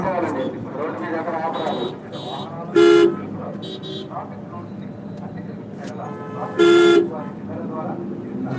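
Busy town road traffic in hot Guntur, with two loud car horn toots standing out over a constant engine rumble while a voice talks nearby.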